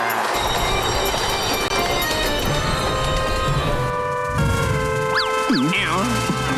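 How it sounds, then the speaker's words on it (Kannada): Cartoon train at a railway platform, a loud continuous rumble with whistle-like tones that rise and fall sharply near the end, with voices talking over it. "ಟ್ರೈನ್ ಈಗ್ಲೇ ಹೊರಟು ಬಿಡುತ್ತೆ ಕಣೋ"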